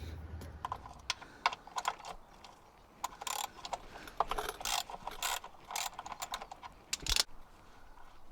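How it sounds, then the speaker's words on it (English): A socket ratchet loosens the oil drain plug on a Toyota, a 14mm socket clicking in quick irregular bursts of pawl ratcheting, close and fairly quiet with short pauses between strokes. "it requires a 14mm socket to take that out"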